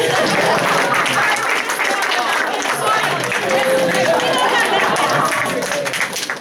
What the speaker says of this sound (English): I'm thinking we can applaud here.